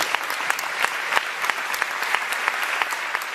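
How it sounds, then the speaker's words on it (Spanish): A dense wash of audience applause for a performer reaching ten stars, many hands clapping continuously at steady loudness with no pauses. "hay que darle un aplauso por favor"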